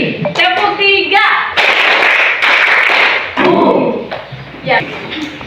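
Students in an Indonesian classroom clap a three-beat rhythm together on cue, loud crisp group claps separated by short pauses, with speech in between.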